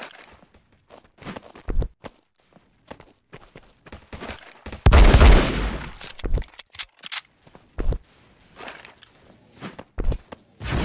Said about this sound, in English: The base is under attack.